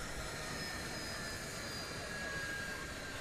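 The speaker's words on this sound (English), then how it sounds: "The helicopter will drop off some extra gear, and we'll be fine." A helicopter arriving at a helipad in Minecraft's Crafting Dead mod gives a steady, moderately loud engine and rotor drone with faint high whine, continuous and unchanging throughout.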